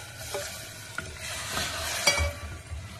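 Soup poured into a pan of well-fried onions for a red bone soup, a steady sizzle with stirring and a few sharp clinks, close and moderately loud, no talking.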